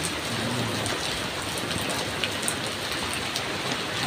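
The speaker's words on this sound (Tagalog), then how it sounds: "malakas po ang ulan at talaga mahangin din oh" Heavy rain pours steadily onto surfaces outdoors during a windy storm, a dense continuous hiss with scattered drop impacts, fairly close and alone without talk.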